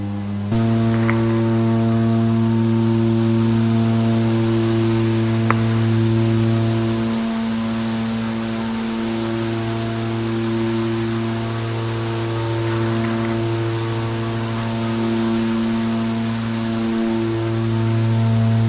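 Twin turboprop engines of a DHC-6 Twin Otter in Microsoft Flight Simulator, cruising above 18,000 feet, with a loud steady drone and strong tonal hum that wavers slightly in pitch, heard alone without talk.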